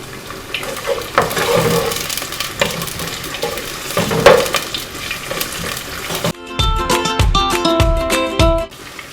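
Sliced onions sizzle and crackle in a hot pan on high heat with occasional stirring scrapes, then a burst of musical tones enters near the end.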